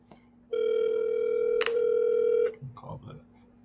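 A phone rings out while calling someone back, one long steady ringback tone with a short break, followed by a person beginning to talk.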